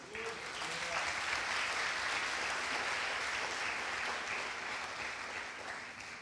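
A church congregation claps in a faint, distant, sustained wash of applause during a sermon, steady throughout.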